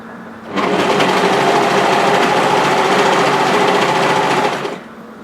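A sewing machine runs steadily for about four seconds, stitching along a cardigan's waterfall collar, starting and stopping abruptly with a continuous, even whirr close by.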